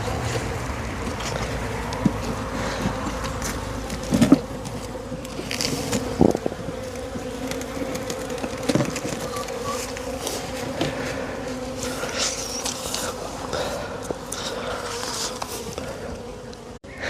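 Honey bees buzz steadily and densely close by while a beehive is opened for inspection, a continuous hum with a few brief knocks and handling sounds over it.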